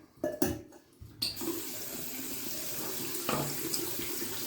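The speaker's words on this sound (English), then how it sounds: "I'm gonna fill this guy with hot water." Hot water runs from a tap to fill a shaving mug for Mountain Dew-scented shave soap, a steady close splashing stream that starts after a few clunks and keeps flowing evenly.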